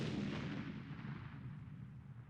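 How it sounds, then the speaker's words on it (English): A gunfire sound effect in an audio drama: a single heavy, booming shot that rings out at the start and then decays slowly into a long rumbling tail, heard alone with no talking. "What was that? Gunfire!"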